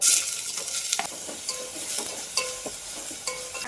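Onions frying in oil in a steel pot sizzle steadily and close by, broken by repeated sharp clinks and scrapes of stirring against the metal, with no talking.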